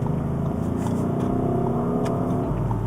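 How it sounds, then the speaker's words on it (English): An Audi SQ8 engine drones and builds steadily under acceleration with a deep, throaty rumble, loud and close, with no voices. "It's got this meaty, aggressive, throaty sound which is beautiful to hear when you push this car."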